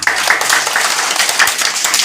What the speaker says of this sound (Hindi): फिर ताली बजा